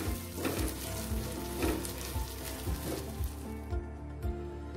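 Onions and tomato puree fry over a medium flame in a pan for green pea dal, a steady close sizzle with soft periodic stirring thumps and no talking.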